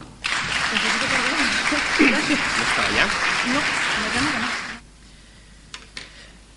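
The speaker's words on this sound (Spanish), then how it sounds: "Un aplauso, por favor." Audience applause at a conference talk, loud mixed clapping with some voices for about four and a half seconds, then fading abruptly to near silence with a brief spoken question near the end.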